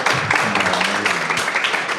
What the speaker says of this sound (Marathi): तर जोरदार टाळ्या झाला पाहिजे समीर खांडेकरसाठी